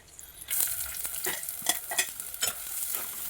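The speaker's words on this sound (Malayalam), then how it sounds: "വെളിച്ചെണ്ണ ചൂടായി വരുമ്പോൾ അതിലേക്ക് സവാള ഇട്ട് കൊടുക്കാം." Onions dropped into hot coconut oil for a spicy Kerala fish curry, a bright sizzle kicking in after a short pause and sustained close-up, punctuated by scraping stir strokes, with no talk.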